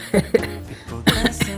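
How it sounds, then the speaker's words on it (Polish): A few short, rough coughs from someone nearby, spaced unevenly with brief pauses, loud and close, with no talking over them. "kaszle trochę."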